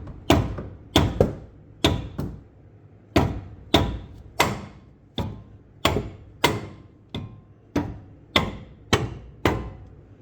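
A rubber mallet pounds a seized front brake disc loose on a 2017 Kia Soul: heavy, dull blows land one after another, about a dozen evenly paced strikes, each a thudding knock with a quick ring that dies away.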